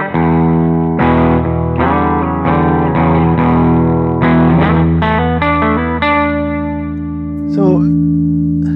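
Les Paul electric guitar played through a Fender Blues Deluxe amp, loud, close strummed chords ringing with effects and reverb, then a sustained chord decaying near the end, without talk.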